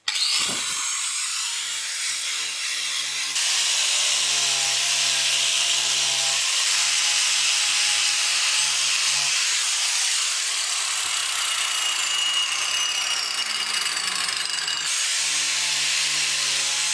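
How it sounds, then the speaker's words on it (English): An angle grinder fitted with a coarse carbide disc shapes a wooden climbing hold, giving a continuous loud, harsh rasping whine close by, with slight shifts in pitch as the disc bites and eases off. "I'm now going to use the angle grinder with the coarse carbide disc, and I'm going to use it to shape these parts to make it more round,"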